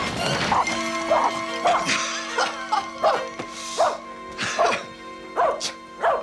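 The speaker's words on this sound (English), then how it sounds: "Well, surely not frightened of a tiny little dog, Jeeves." A tiny dog barks repeatedly in high, sharp yaps at an even pace, fairly close and loud, with a steady tonal background hum under the barks.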